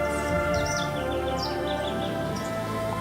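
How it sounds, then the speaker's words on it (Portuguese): Birds sing and chirp in a steady chorus of quick repeated calls, moderately loud over a continuous background hum. "Os sons dos pássaros nos levam a uma viagem no tempo."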